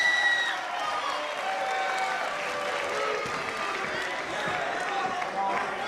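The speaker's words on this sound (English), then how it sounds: "Respectful applause, mix of boos and cheers for Daniels, who comes in hard" Steady crowd applause mixed with boos, cheers and scattered shouts from a large arena audience at a professional wrestling match, continuous throughout, with a few sharp thuds beneath.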